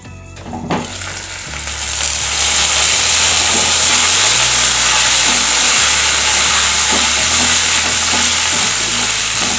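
Tomatoes fry in a hot pan while being stirred, a loud, continuous sizzle and hiss with occasional scraping clicks from the stirring, heard up close and without any voices.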